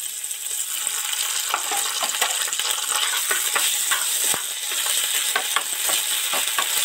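Onions frying in oil in a kadai with ginger garlic paste for egg chili, a steady close sizzle broken by scraping stirs and light clinks of the spoon against the pan.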